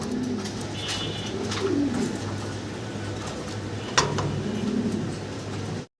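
Running pigeons on a farm coo softly in low repeated phrases, with faint background noise and a brief knock partway through.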